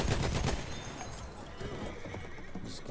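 Enemy horse in the Battlefield 1 Lupkow Pass map whinnying with clip-clopping hooves, close and loud amid gunfire and battlefield noise.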